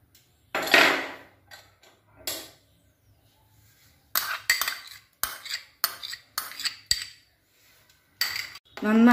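A spoon stirring tender coconut pudding mixture in a vessel, producing a series of separate clinks and scraping knocks in irregular bursts with quiet gaps between them.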